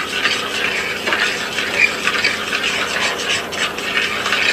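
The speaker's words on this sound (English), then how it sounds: "I am cooking this over a low light and stirring it well." Buffalo shrimp sauce with cream sherry being stirred in a pan over low heat, a steady soft scraping and gentle sizzling hiss, close and continuous with no talk.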